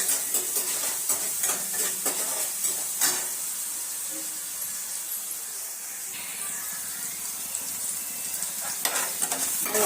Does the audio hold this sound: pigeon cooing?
no